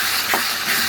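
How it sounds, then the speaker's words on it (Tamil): Garam masala, chilli powder, turmeric and asafoetida stirred in a hot pan for tomato pongal: a brief, steady, loud sizzling hiss with a faint scrape of the spoon partway through, no talk. "இது நல்லா கிளறி விட்டுறோம்."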